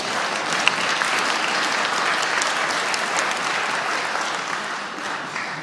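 An audience claps steadily throughout at the First International Jazz Day conference, a dense, even applause from a sizeable crowd in a hall.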